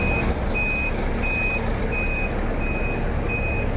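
Bus reversing alarm at a passenger bus terminal before departure: a steady series of six evenly spaced electronic beeps over a constant low engine rumble and yard noise.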